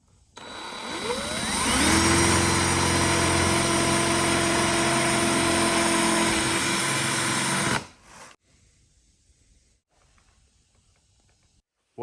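A power drill bores a hole through a splitter strut rod mount, a loud steady whine held for about eight seconds before cutting off, followed by brief faint handling noises.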